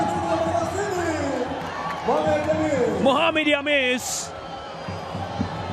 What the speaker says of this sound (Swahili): akiamsha shangwe la mashabiki